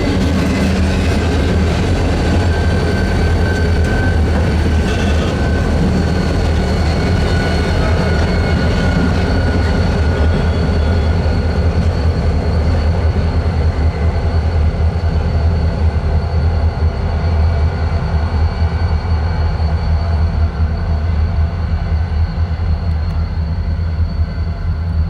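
A freight train led by second-generation EMD six-axle diesel locomotives rolls past nearby, a loud, steady low engine drone with continuous wheel and railcar rumble throughout.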